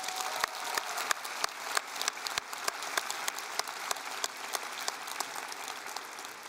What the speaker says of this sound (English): can all of us graduates give them a huge round of applause.